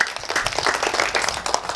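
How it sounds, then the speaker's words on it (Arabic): Children in a television studio clap together in a brisk, dense burst of applause, close and fairly loud. "صفقوا عليهم يا اطفال، صفقوا عليهم."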